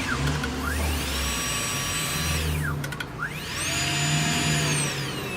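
Marathon Saeyang N7 micromotor handpiece running at high speed, a steady whirring whine that spins down, pauses briefly and then spins back up, with pitch sweeps as it changes between forward and reverse.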